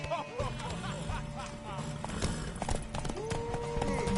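In the video game The Witcher 3, horse hooves clip-clop in a steady galloping rhythm throughout, with voices talking over them and a brief whinny near the end.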